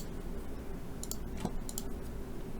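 A few quick, close clicks of a computer mouse during spreadsheet work, spaced irregularly over a quiet steady background, with no one speaking.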